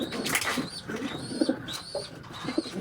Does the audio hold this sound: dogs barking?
no